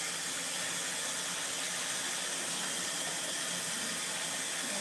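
Hot water runs steadily from a kitchen tap in a home during dish cleaning, a constant, even hiss and rush of flow with no voices.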